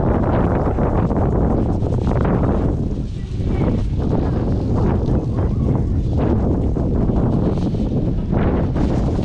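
Strong outdoor wind buffets the microphone with a loud, constant low rumble and roar throughout, while people fly kites in a street kite-fighting session.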